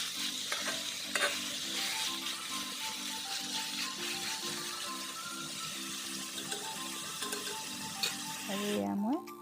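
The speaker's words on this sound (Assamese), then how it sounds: "মাংসটো মই ভাজি ল'ম।" Local chicken pieces fry in a small amount of oil in a pan, giving a steady, close sizzle with stirring scrapes throughout. A faint tonal hum sits underneath, and the frying continues to the end.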